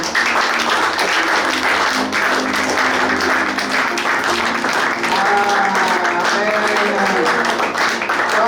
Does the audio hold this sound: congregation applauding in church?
yes